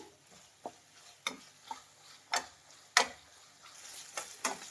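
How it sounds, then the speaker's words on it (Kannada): Ginger garlic paste frying over a medium flame for mutton fry, a faint low sizzle broken by intermittent spatula scrapes and taps against the pan at irregular intervals, quiet and close, with no voices. "ಶುಂಠಿ ಬೆಳ್ಳುಳ್ಳಿ ಪೇಸ್ಟ್ ಫ್ರೈ ಮಾಡಬೇಕು"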